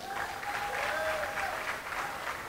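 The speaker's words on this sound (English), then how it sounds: "So give him a round of applause." An audience at a festival opening ceremony claps steadily in faint, distant applause, with a thin tonal whine running underneath.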